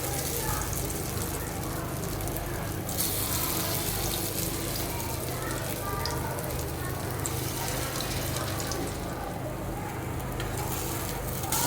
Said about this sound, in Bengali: আমি গরম তেলে বড়াগুলো এক এক করে দিয়ে দিতেছি।